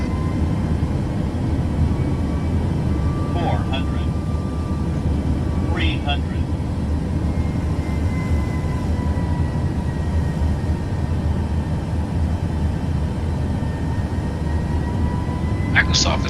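A Boeing 737 Max makes an ILS landing in Microsoft Flight Simulator 2024, a steady loud engine roar and rushing cockpit hum throughout, with short automated callouts breaking in now and then.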